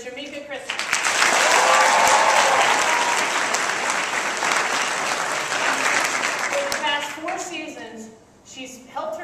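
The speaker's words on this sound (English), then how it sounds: "Please give a huge hand for Shamika Christmas." An arena audience at an NBA All-Star Weekend event breaks into loud, sustained applause that swells and holds for several seconds, then fades as a voice talks over the tail.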